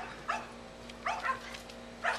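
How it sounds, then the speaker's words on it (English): Several dogs bark from the far end of a yard, each burst of a few short barks well apart, distant and fairly faint over a steady low hum, with no one talking. "our other dogs are raising Cain at the other end of the yard."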